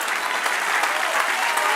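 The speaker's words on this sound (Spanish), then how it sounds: "Dan un aplauso al Señor" Church congregation applauding in a continuous, even burst of many hands clapping, steady from start to finish.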